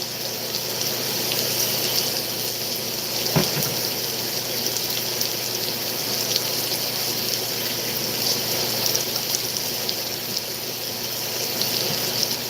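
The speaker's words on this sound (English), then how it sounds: "Why I rinse my hands." Hands are rinsed under a running kitchen tap, with a steady close gush of water and a brief clunk partway through.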